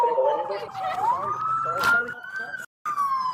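A video game police siren wails continuously, rising and sweeping in pitch, with a brief cutout near the end before resuming; loud and close.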